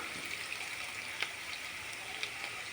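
Onions frying lightly in a pan with a little salt, for a ridge gourd and tomato curry: a soft, steady hiss with a few faint pops, quiet and unbroken.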